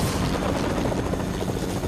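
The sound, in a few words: helicopter in Fortnite video game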